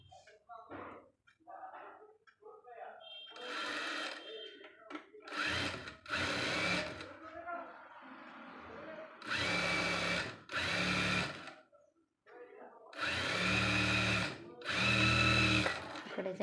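A sewing machine stitches a strip of fabric onto a blouse in several loud, buzzing bursts of a few seconds each, separated by pauses. A person talks quietly in the gaps.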